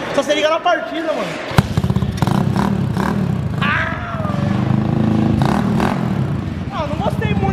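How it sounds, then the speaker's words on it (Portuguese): A small car engine starts with a sharp thump and then runs with a steady, slightly rough rumble while people talk over it. "não gostei muito do barulho desse carro"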